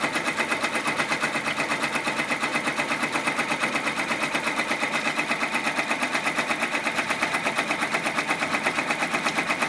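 Embroidery machine running slowly while stitching a zipper bag in the hoop, a steady, even mechanical chatter of rapid needle strokes that continues without a break, close and fairly loud.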